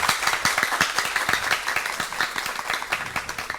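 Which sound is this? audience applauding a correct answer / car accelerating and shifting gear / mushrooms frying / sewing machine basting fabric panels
audience applauding a correct answer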